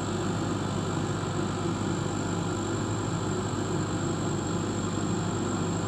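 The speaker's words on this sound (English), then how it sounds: "The power for the laser is now switched on." Steady, even mechanical hum with a constant low drone from a laser cutter running after power-up, moderately quiet and unchanging, with no voices.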